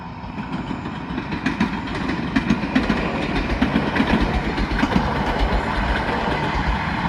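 A train rumbles past nearby under clear weather with rhythmic clacking of wheels over rail joints, a steady heavy roar throughout.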